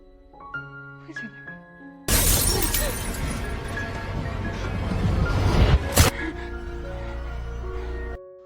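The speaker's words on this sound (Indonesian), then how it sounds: "langsung mecahin kaca mobil" Car window glass smashes in one sudden loud shatter with a long crunching, scattering tail that carries on over several seconds, then cuts out. A quieter musical passage plays before and after the break.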